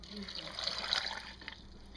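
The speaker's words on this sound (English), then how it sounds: "And I take a cup of filtered water." Filtered water poured into a cup for a homemade prepper drink, a soft trickling stream running steadily for about two seconds, close and fairly quiet with a brief splash near the middle.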